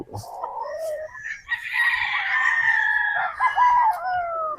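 A straight comb roundhead gamefowl stag crows loudly and close, one long drawn-out cock-a-doodle-doo with a few clucks around it.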